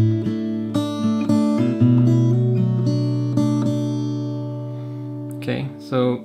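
Fingerstyle acoustic guitar playing a section of a song, plucked notes over ringing open strings with a gentle lilting rhythm, close and solo, ending with a brief spoken word.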